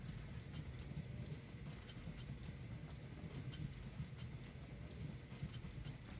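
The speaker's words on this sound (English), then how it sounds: "let's send a passenger train into here." Passenger train rolling along in the video game Train Valley 2, a steady low rumble with faint rhythmic clicks, quiet and continuous with no talking.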